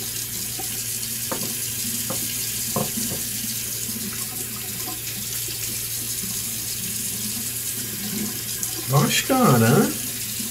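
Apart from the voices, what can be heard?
tap water running while washing face after shaving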